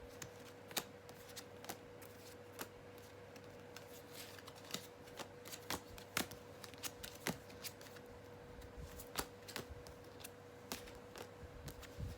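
A deck of tarot cards being shuffled close by in a quiet room, soft riffling and flicking with sharp card snaps at irregular intervals throughout.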